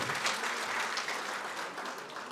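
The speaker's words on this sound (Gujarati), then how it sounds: "એમના માટે જોરદાર તાળીઓ થઈ જાય" An audience at a community trust book launch and felicitation programme clapping loudly and continuously, a dense wash of applause from many hands that fades slightly toward the end.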